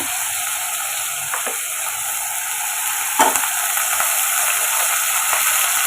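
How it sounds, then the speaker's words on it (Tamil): Greens, including ponnanganni, sauté with onion, ginger garlic paste and salt in a pan, giving a loud continuous sizzle broken by occasional scraping stirs and utensil clicks, with no talking. "கீரைக்கு தேவையான உப்பு சேர்த்து இதையுமே ஒரு ரெண்டு நிமிஷம் நம்ம வதக்கி வைத்தா போதும்"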